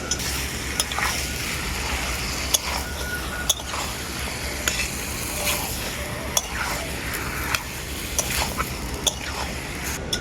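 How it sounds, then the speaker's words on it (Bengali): Country chicken meat is stir-fried in a pan, a constant sizzle punctuated by regular sharp clinks of a spatula against the metal, about one every second, close and fairly loud. "এরপর আমি মাংসটা খুব ভালো করে কষাতে থাকবো যতক্ষণ না মাংসের গা থেকে তেল ছেড়ে যাচ্ছে"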